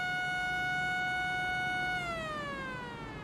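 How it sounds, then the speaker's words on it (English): A race track caution siren sounds a steady, loud harmonic wail at Bristol, then winds down in pitch as it fades, with no talk over it. "Third caution of the day. Brings the siren."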